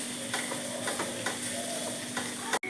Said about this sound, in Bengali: ওইটা জল ঝরানোটা কষানো হচ্ছে একটু তেলের সাথে।